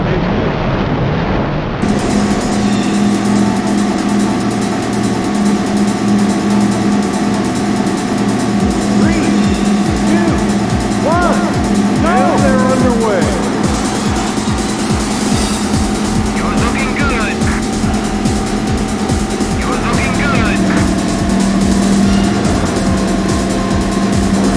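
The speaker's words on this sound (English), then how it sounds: "Gentlemen, start your engine." Race car engines in the Daytona USA arcade racing game on PC: a loud continuous high engine drone with revving pitch sweeps, tire squeals and game effects throughout, with no talk.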